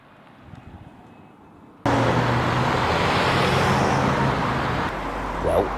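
Road traffic rushes by after a quiet start, a sudden loud, continuous wash of tyre and engine noise holding steady, then easing slightly before a brief swell.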